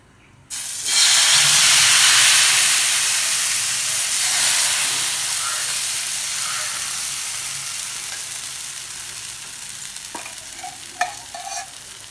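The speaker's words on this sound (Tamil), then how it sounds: "இப்போ தோசை ஊற்றிக்கலாம்." Ragi rava dosa batter hits a hot pan and bursts into a loud, sustained hiss that slowly fades over several seconds, with a few light utensil taps near the end and no voices.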